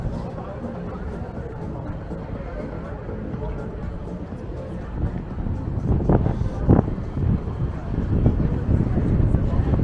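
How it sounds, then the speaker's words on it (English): Wind gusting on a warm, dry night in Las Vegas around Fremont Street East, a steady broadband rush that swells and grows louder in the second half, buffeting the microphone. "It's got a bit of a wind"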